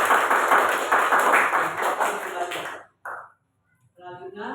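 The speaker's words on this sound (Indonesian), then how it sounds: "Kita beri tepuk semangat." A classroom group of junior high students claps together in a rhythmic encouragement pattern, loud and steady for a few seconds before stopping abruptly, followed by a brief quieter burst of clapping.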